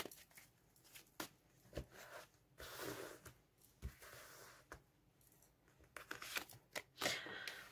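Tarot cards being shuffled and drawn in a quiet room, heard as soft, close riffling and sliding bursts with light taps and flicks in an irregular rhythm, faint overall, with no talking.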